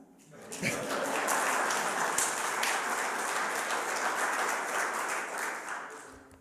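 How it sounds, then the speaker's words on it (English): Congregation at a Unitarian Universalist Sunday service clapping together, a broad sustained patter of many hands that swells in quickly, holds steady for several seconds, then tapers off. "You can clap."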